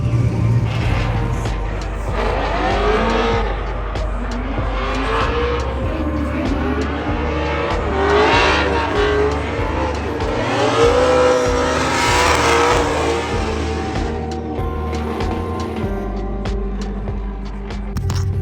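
A Formula Drift car heads out on its first lap of the 2024 season, its engine loud and close, revving and surging continuously with rising and falling pitch as it accelerates and shifts.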